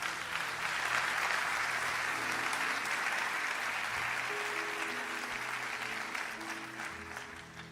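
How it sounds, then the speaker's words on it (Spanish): A church congregation gives a steady round of applause during a Spanish-language sermon, a dense even clapping that holds for several seconds and slowly eases off, with a faint sustained tone underneath. "Dele un aplauso a Dios"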